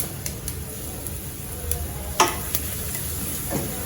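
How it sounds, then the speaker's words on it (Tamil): Ground pepper spice powder frying in ghee over a medium flame with curry leaves, a steady soft sizzle with occasional scraping stirs and light clicks of a spoon against the pan. "இந்த பொடி வந்து இந்த நெய்யில் நல்லா பொரியணும்"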